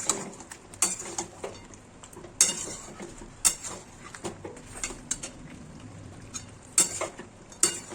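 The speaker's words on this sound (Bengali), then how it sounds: "আলুটা চিকেনের সাথে একটু কষিয়ে নিব ভালো করে।" Fried potatoes and chicken being sautéed together in a pan for a Bengali red chicken curry, with a low sizzle beneath repeated sharp clinks of a metal spoon scraping and tapping the pan at irregular intervals, and no talking.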